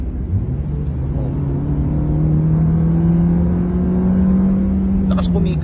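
A 2019 Suzuki Dzire AGS automatic accelerates from inside the cabin, its engine hum climbing steadily in pitch with a gear change partway, moderately loud, then a brief rattle near the end.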